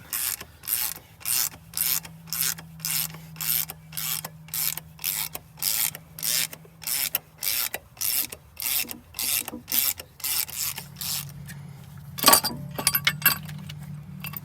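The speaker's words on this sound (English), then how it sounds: "pulling off the cam pulley here" A cast iron cam pulley being worked off a Detroit 8V92TA engine with a puller, heard as a close, rhythmic series of metallic rasping ratchet strokes about twice a second, ending in a few louder clanks.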